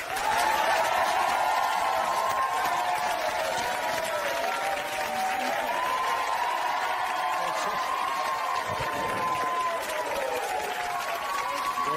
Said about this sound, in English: Not very often a whole room of people cheer for you?